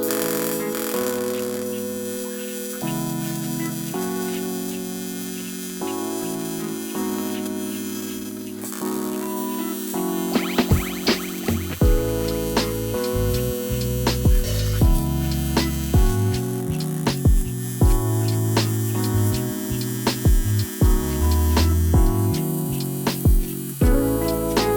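Welding mounting blocks onto a steel headlight bracket for a Yamaha XV750 motorcycle, with a steady electric buzz and hum broken by bursts of crackling arc sound close to the mic.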